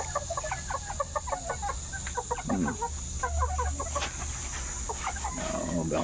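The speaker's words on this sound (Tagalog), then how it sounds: "Ito yung kauna-unahan kong mga bantam" Bantam chickens in a coop cluck in short repeated bursts close by, with some background noise and faint talk in places.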